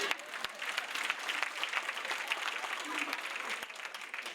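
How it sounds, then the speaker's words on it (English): An audience gives a round of applause at a motivational talk, steady and fairly distant, with dense clapping sustained throughout and a few sharper individual claps standing out. "Will you all give me a round of applause?"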